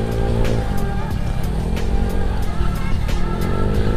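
A Honda Scoopy scooter fitted with a Speedspark open looper exhaust accelerates with a loud, steady engine drone and rising pitch, recorded up close while riding, no talking.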